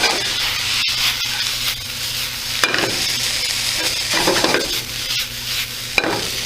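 Rice for Hawaiian-style fried rice sizzles in a hot pan while a utensil stirs and scrapes against the metal in repeated bursts, close and fairly loud.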